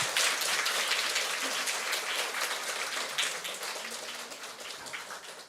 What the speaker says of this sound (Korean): 우리 박수로 우리 선교사님 맞이하겠습니다